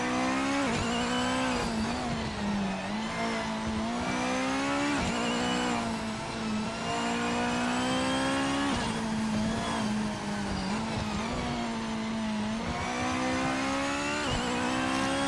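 Japanese GT500 race car in a racing video game, its high-performance four-cylinder engine revving steadily and loudly throughout, pitch rising and falling with shifts and throttle, no talk.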